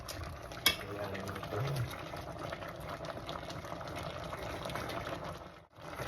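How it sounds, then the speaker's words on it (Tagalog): Water is poured into a pot of pork sinigang on the stove, giving a steady bubbling, gushing liquid sound at moderate volume with a brief clatter near the start and faint kitchen noise. "alagyan na po natin siya ng tubig para pakuluin"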